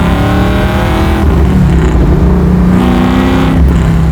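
A supercharged Chevy Camaro pro-touring build revs hard under acceleration, its engine roaring loud and close with a climbing pitch and no voices over it.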